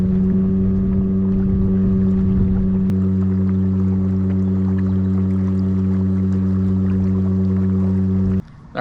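A Bixpy electric boat motor runs at maximum speed, giving a steady, loud, close hum that holds continuously for several seconds under a wash of wind and water noise before cutting off abruptly at the end.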